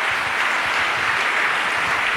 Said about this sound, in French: Je propose de l'applaudir également.